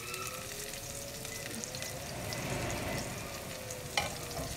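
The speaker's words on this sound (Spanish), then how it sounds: "Vamos a agregar la cebolla que empieza a agarrar ese color." Onion sizzles in a hot pan while cooking for a Michoacán-style shrimp broth, a steady soft crackle with faint stirring scrapes and a small clink near the end.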